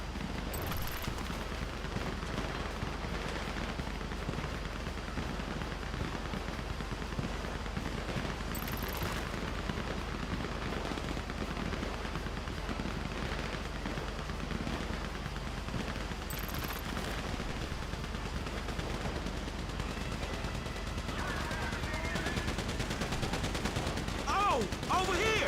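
Tank fire in the GTA 5 video game, with continuous heavy gunfire and booming blasts rumbling together in a loud, dense barrage through the whole stretch, under occasional talk.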